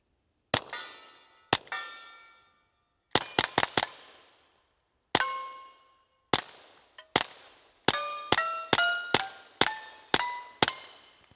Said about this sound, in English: let's shoot it suppressed